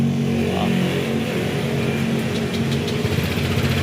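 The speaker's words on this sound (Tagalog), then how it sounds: "pag umaandar ang makina" A Honda Click 150i motorcycle engine runs at a steady idle close by, a continuous low hum with slight fluctuations, being checked for a throttle position sensor problem, with no talking over it.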